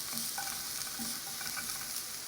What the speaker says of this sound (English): I am sauteing both of them so they're nice and brown, translucent.